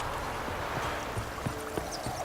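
Big horse's hooves clip-clopping at a steady walk near a creek in a video game, muffled thuds at a regular pace under a constant ambient wash.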